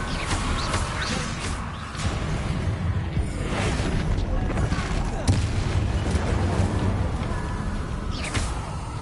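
A Bombarda blast spell from Hogwarts Legacy goes off amid a run of spellcasting, with several loud booming bursts scattered across a dense, noisy stretch of combat effects.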